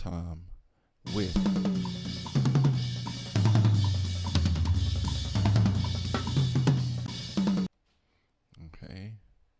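Fourth drum tom in a mix with EQ applied, struck in a rapid rhythmic run of hits for about six seconds, loud and upfront with no talk over it, followed by a short spoken remark.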